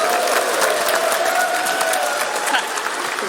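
An audience at a retro-style PowerPoint Karaoke session at the EMF2024 festival claps and cheers for two presenters. Dense, sustained applause fills the room, with whoops and crowd voices mixed in.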